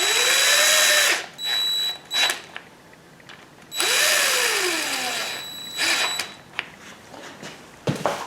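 A power tool drives an 11 mm socket on a 2010 Cadillac CTS in loud whirring bursts, each spinning up and winding down, with short pauses and small clicks between them.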